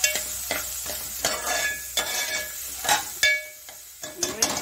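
Onions sprinkled with salt and turmeric sautéing in a pan, a steady close sizzle broken by repeated scraping stirs of a utensil against the pan every second or so.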